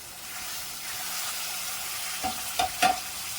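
Curry leaves and green chilies frying with chicken in a pan, a steady low sizzle with a few sharp stirring scrapes and clicks near the end, no voices.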